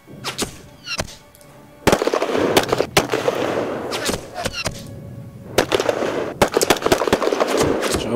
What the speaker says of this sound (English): Germans firing out of the bushes.